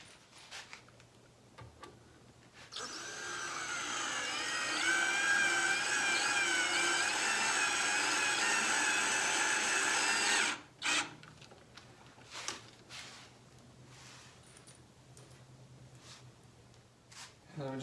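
A power drill drives screws into a wooden sofa table, a loud steady whirring run of about eight seconds that cuts off sharply, followed by quieter workshop handling sounds.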